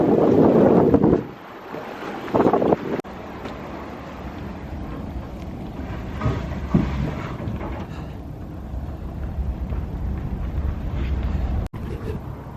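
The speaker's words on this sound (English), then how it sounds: "We in the ocean, boys." Strong ocean wind buffets the microphone over a boat running on open sea during a sea duck hunt off South Carolina, a steady roar of engine, water and gusts, loudest in a few bursts near the start, with no talking.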